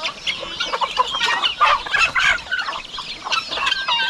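Chickens cluck and chatter nearby in a busy, overlapping flock, with irregular calls throughout and no speech.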